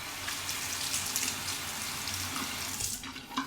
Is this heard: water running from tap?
yes